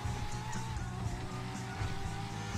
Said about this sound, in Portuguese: o carro tá derrapando aqui